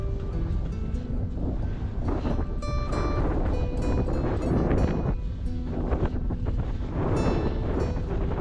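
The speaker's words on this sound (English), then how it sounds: "It's gotten rather windy up here." Strong wind gusting across open sand dunes high on a crest at Great Sand Dunes, a steady loud roar with buffeting rumble against the microphone throughout, no voices.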